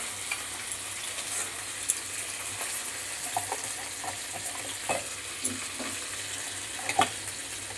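Prawns being cooked in a pan with spice paste for til chingri bhapa, giving a steady low sizzle with occasional stirring clinks and scrapes, fairly quiet with no talking.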